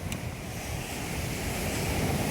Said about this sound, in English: the sea is very rough today